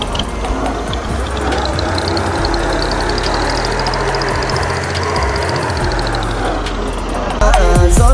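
Ford tractor engine running during a ride, with a loud, continuous low rumble and mechanical rattle that holds steady throughout and grows heavier near the end.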